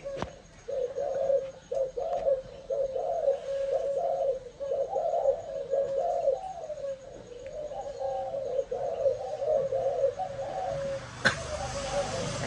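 A breeding pair of domestic pigeons coos steadily and softly in repeated low phrases throughout, close to the recorder with faint background noise and no talk.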